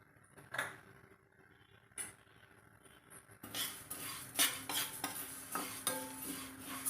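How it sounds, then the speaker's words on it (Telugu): Cumin seeds and black pepper stirred over medium flame in a pan for moringa leaf spice powder, with faint sizzling, scraping spoon strokes and light clinks, sparse at first then busier and louder in the second half. "ఇదంతా మీడియం ఫ్లేమ్లోనే పెట్టుకొని బాగా ఫ్రై చేసుకోవాలి"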